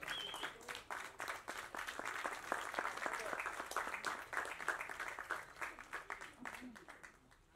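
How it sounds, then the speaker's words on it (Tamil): An audience at a movie press meet for the film PT Sir applauds while a cake is cut, a steady wash of many hands clapping that fades near the end, with voices mixed in. "நம்ம எல்லாரும் சேர்ந்து ஒரு பெரிய கைத்தட்டல் கொடுக்கலாம்."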